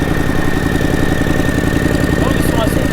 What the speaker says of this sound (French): je vais te faire une petite démo sonore, un petit peu d'échappement. Donc là, on va démarrer